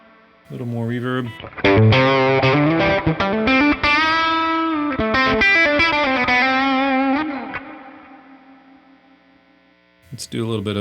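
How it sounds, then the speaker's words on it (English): Overdriven electric guitar through a Mocadlo 100-watt Dual Voice Lead tube amp head with extra reverb, a loud, close lead phrase that rings out into a long decaying tail before a fresh chord hits at the end. "A little more reverb."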